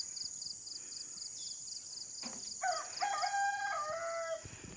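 Hens and a rooster in a home chicken coop: soft clucking and rustling, then a rooster's clear crow rises mid-clip, fairly close, over quiet background noise and a faint steady high hum.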